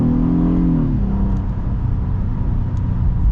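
A 2024 Honda Passport SUV with a naturally aspirated V6, driven in sport mode, accelerates with a sustained engine roar and low rumble whose tone sweeps early on, heard from inside the cabin.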